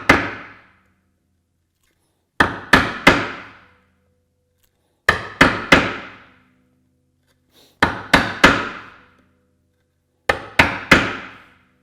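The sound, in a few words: chopping wood with a chisel and mallet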